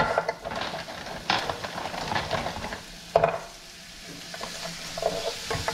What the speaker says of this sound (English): I'm going to stir until I've browned all sides.